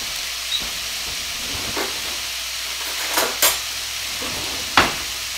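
Sausage frying in a pan makes a soft, steady sizzle, broken by a few sharper crackles and spits, close but fairly quiet, with no talking.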